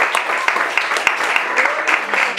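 A church congregation applauding during a sermon, a dense round of clapping at moderate level with a voice heard over it.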